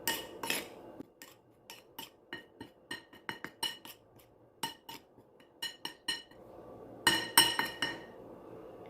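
Fish fillet being mixed with salt in a bowl, with a long run of light clinks and taps of a utensil against the bowl in an uneven rhythm, close, and a denser flurry near the end.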